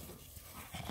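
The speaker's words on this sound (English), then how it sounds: "give him a big growl" A dog gives a low, close growl mixed with panting for about a second, with no talk over it.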